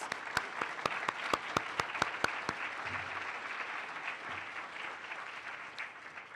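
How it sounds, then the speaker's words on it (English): Audience applause at a conference keynote, a steady wash of clapping from a seated crowd, with a few sharp, close claps standing out at first before the applause settles into an even, moderate patter. "please give everyone a round of applause"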